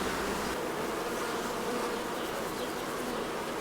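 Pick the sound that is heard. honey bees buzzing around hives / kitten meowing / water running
honey bees buzzing around hives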